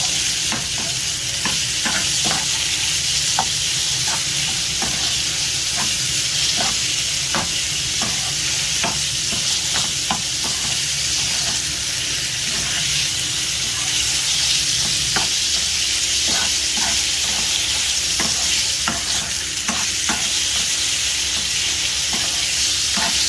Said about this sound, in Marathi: त्याला छोटे छोटे पीस केले आहेत मी. त्याला चांगलं परतवायचं आहे.